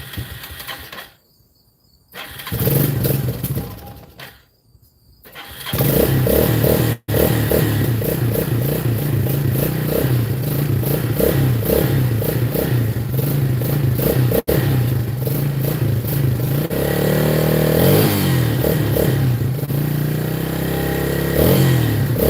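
A motorcycle left out overnight is started with the choke on, cranking in short bursts before catching, then running loud and rough with uneven revving and sputtering close by.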